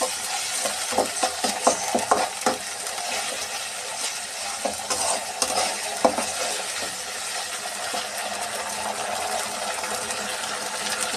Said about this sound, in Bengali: মশলাটা ভালো করে আবার নেড়ে চেড়ে নেব।